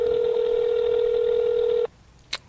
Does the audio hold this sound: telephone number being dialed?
yes